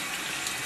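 Tap water runs steadily while a makeup sponge is rinsed clean of soap, a soft broadband hiss that holds even and close for under a second.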